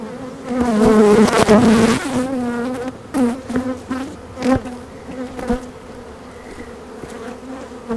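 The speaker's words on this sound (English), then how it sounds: "Yeah, there are a lot of bees in here." A dense swarm of honey bees buzzes loudly and close during a hive transfer, the steady drone swelling early on, then wavering with shifting pitch as individual bees pass the microphone.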